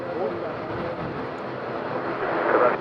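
A passenger airplane going around at Madeira Airport in strong wind, its engines giving a steady broad roar that swells toward the end.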